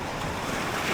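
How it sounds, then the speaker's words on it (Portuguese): Heavy ocean surf off the coast of Bali roars as a dense, continuous wash of broadband noise, loud and close, with wind buffeting the microphone and no talk. "as ondas"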